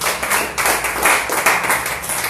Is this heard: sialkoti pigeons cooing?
no